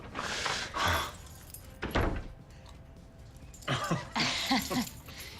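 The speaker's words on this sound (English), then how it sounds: "I should probably give you these keys back" Keys jangle in bursts as they are handed over, with door-like clatter nearby in an indoor room; three separate rattling clusters, close and moderately loud, with no talk.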